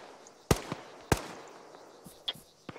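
Tracer rounds fired in the military video game Arma 3, two sharp, loud single shots about half a second apart, followed by fainter scattered pops as the sound dies away.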